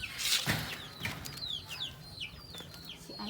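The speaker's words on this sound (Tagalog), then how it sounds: "Oh, manok." Chickens clucking in short, scattered calls outdoors on a farm, moderately close, with a few overlapping chirps and a soft rustle early on.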